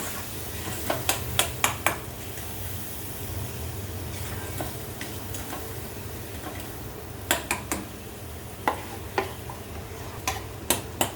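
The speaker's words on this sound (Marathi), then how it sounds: "इथे आपण तेलात हे सगळं वाटण टाकलंय" Ground masala paste sautéing in oil over a low gas flame, a quiet steady sizzle with clusters of sharp clicks and taps from a spoon against the vessel.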